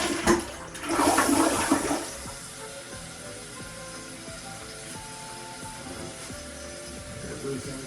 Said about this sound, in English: I'm going to go ahead and do a test flush.